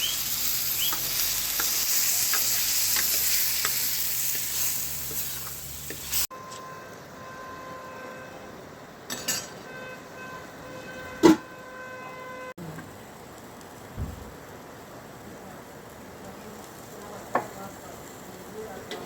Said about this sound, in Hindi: ये बन रही है मिक्स वेज बनेगी भाई जी।